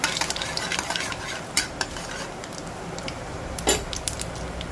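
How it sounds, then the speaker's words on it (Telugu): Fenugreek seeds, urad dal and mustard seeds fry in a hot pan for a lentil cucumber chutney, giving a steady close sizzle and crackle with a few sharp pops and light scraping of a stirring utensil. "ఆ మెంతులు కొంచెం వేగుతూ ఉంటే అప్పుడు మనం మినప్పప్పు ఆవాలు కూడా వేసుకోవాలండి"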